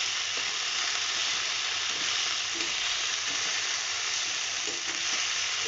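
Boiled soybean chunks fry with onion in a hot pan for aloo posto, giving a steady, close, even sizzle with occasional soft stirring clatter throughout.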